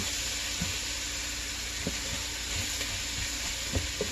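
Diced potatoes sizzle and fry steadily in a pot over medium-high heat for a soup, with a constant hiss and a few faint stirring knocks.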